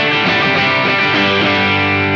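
A loud, sustained distorted guitar tone from an analog distortion pedal, thick and buzzing with harmonics, ringing out steadily without any talking.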